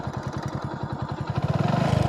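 A motorcycle engine chugs in a quick, even rhythm while being ridden and grows louder and punchier toward the end.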